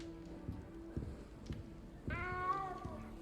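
A cat hidden under a chair in the video game Hogwarts Legacy gives one clear, drawn-out meow near the end, close and distinct above soft game ambience and footstep-like thumps.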